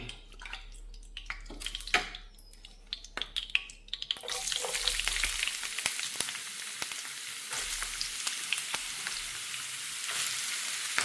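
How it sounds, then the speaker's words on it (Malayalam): Sliced ginger is stirred into hot oil for a ginger curry: a few sharp utensil knocks first, then a sudden, steady crackling sizzle that fills the rest, close up with no talking. "ഇനി നമുക്ക് ഇഞ്ചി ഈ എണ്ണയിലേക്ക് നമുക്ക് ഇട്ട് കൊടുത്തിട്ട് ഒന്ന് വറുത്തെടുക്കാം"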